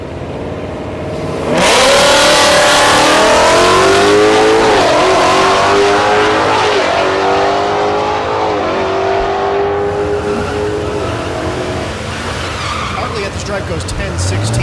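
Drag racing cars, including a Mustang in the left lane, launch at Thunder Valley in Noble, Oklahoma, an abrupt loud engine blast with rising revs and gear changes that stays strong, then eases slightly near the end.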